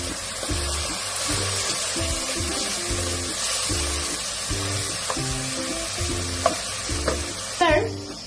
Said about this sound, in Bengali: আদা বাটা এবং রসুন বাটা দিয়ে মশলাটা একটু ভালোভাবে কষাতে থাকবো।